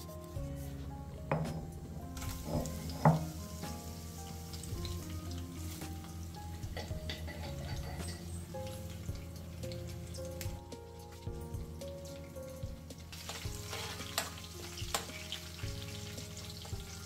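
Tempering spluttering and sizzling in hot oil for Andhra mango coconut chutney, a steady crackle with sharp pops and stirring scrapes, close and continuous for the whole stretch with no talking.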